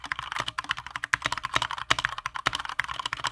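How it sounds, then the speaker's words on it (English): Rapid, close keystrokes clatter on a Keychron K2 wireless aluminum RGB keyboard with brown tactile switches, forming an uneven continuous typing rhythm with no voices. "It's the aluminum RGB version of the Keychron K2 wireless keyboard with brown switches."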